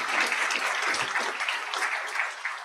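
Short burst of audience applause at a college convocation, a full, even patter of many hands clapping at moderate volume.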